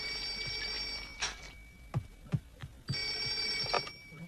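A telephone rings in a cartoon home scene. Two long bursts of bright, steady electronic ringing are separated by a pause filled with a few soft thumps, and no voices are heard.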